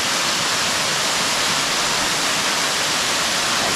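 Waterfall in Sri Lanka near Yala, a dense, even roar of falling water that fills the whole stretch without a break, close and continuous.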